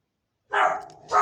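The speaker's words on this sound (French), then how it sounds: "C'est la chienne. À chaque fois que je fais une vidéo, à chaque fois elle aboie." A female dog barks twice indoors, close and sharp, in a quiet room with no talk.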